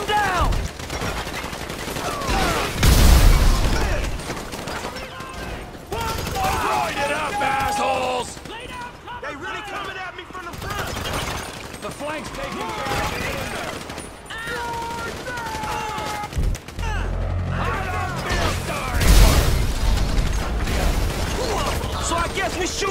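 A shootout in Grand Theft Auto V, with bursts of gunfire, some heavy close shots among them, scattered through the scene under frequent shouted speech and music.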